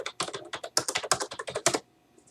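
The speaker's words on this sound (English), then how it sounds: "I'm going to type it in here real quick." A product key is typed on a computer keyboard in a quick, close run of crisp key clicks that stops abruptly, followed by near silence.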